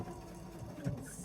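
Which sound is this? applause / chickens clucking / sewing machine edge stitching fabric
sewing machine edge stitching fabric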